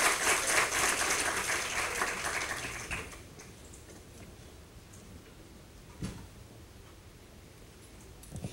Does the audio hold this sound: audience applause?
yes